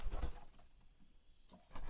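Soft pigeon cooing at night during feeding, low and brief, with a quiet pause between two short coos.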